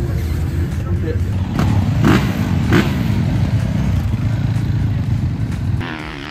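Racing motorcycles circling a track during free practice at Romagné, France: a steady loud engine drone with rising revs and passing surges, a couple of sharper bursts, tailing off near the end.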